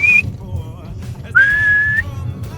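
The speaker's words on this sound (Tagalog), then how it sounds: "Sipol. Sipol." A person whistles to call the wind at a beach camp in Calatagan, Batangas, giving a short high note, then a longer sustained one, close and loud over a low background murmur.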